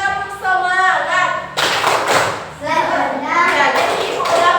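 A class of children in a religious education lesson performs a rhythmic clapping cheer, short bursts of claps alternating with chanted, sung-out syllables in a call-and-response pattern, close and lively.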